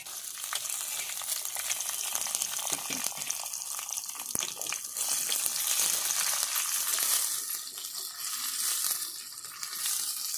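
Onions added to hot oil with cinnamon and chilies frying for a spicy country chicken fry, giving a steady loud crackling sizzle throughout with occasional stirring scrapes.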